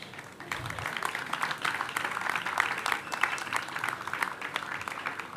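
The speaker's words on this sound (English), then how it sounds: "If there is any time to clap, then it's now." Many people clap at a university congregation ceremony in Accra, a fluctuating roomful of hands that swells and eases over several seconds without speech.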